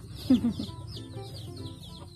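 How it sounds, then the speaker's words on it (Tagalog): Chickens cluck and chatter close by on a rural farm, with one louder squawk near the start and softer bird calls continuing around it. "at dahil hapon na guys, papakain naman ng manok"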